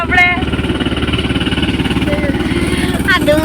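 Tractor engine running beside a farm field during a peanut harvest, a steady low throbbing chug close by, with brief bursts of voices over it.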